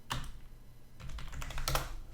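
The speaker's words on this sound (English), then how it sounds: "I'm typing the comments here" Bursts of quick computer keyboard clicks while typing code comments, a few keystrokes, a pause, then a faster run of typing, fairly close and with no voices.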